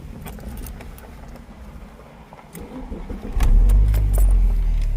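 A faint jingle of keys, then a Saab 9-3's engine cranks and catches, settling into a loud, steady idle.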